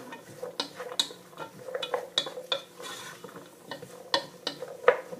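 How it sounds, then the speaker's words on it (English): Food being stirred around in melted butter in a pan, with repeated light scrapes and clinks of a utensil against the metal in an uneven rhythm, close and fairly quiet. "So just give them a bit of a stir around, coat them in all that lovely butter."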